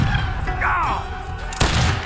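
A musket volley in the game Age of Empires 3, a short, close crack of massed gunfire with a shouted command and battle noise just before it.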